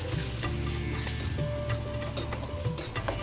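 Asafoetida sizzles in hot oil in a pan on a medium flame, a steady loud close crackle with faint stirring clicks and no voices.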